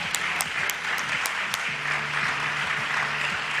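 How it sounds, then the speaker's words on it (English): Conference audience at Invest Jamaica 2022 applauding a company with an all-female board: steady, dense clapping from a large room, with a few sharp louder claps near the start and a low hum underneath. "I'm going to give us an opportunity to applaud that moment"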